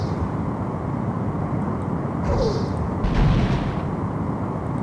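Weapon fire in a Star Trek: The Next Generation space combat video game, targeting a Romulan warbird: a steady roar of rumbling game audio with two brief louder blasts swelling mid-clip.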